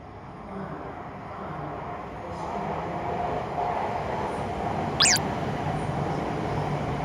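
An Akita Shinkansen Komachi coupled with a Tohoku Shinkansen Hayabusa runs past as a steady rail rumble that gradually swells, with a brief sharp high squeal near the end.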